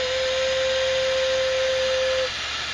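A small power tool whirs steadily with a high, even tone while enlarging a finger hole on a Native American flute, close and loud, then drops slightly in level near the end.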